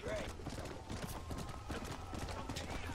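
A horse's hooves clip-clop in a steady, fairly quiet rhythm in the Western video game Red Dead Redemption, ongoing under game ambience.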